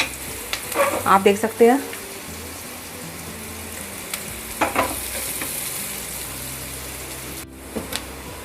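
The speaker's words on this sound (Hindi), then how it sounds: "तो इसे गोल्डन ब्राउन होने तक हम इसे फ्राई करेंगे प्याज को" Onions fry in oil toward golden brown for a shahi kaju paneer curry, giving a constant hissing sizzle with occasional stirring scrapes, while a person speaks briefly over it.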